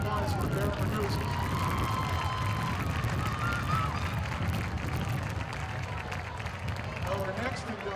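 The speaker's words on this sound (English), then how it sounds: "Let's have a nice round of applause for Erin Ragusis." Applause and crowd noise at a high school hall of fame induction ceremony held at a St. Xavier football game, a steady wash of clapping and cheering from a large outdoor crowd lasting throughout.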